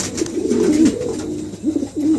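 Two healthy pigeons cooing close by, a run of low throaty coos followed by a short pause and then two more rolling coos, clear and alone with no talk.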